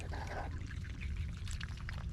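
Fresh water is poured for farm birds on a cold winter morning, a soft, quiet splashing pour outdoors with a low background rumble and faint bird chatter.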